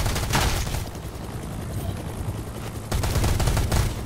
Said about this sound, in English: This fucking chain gun wrecks.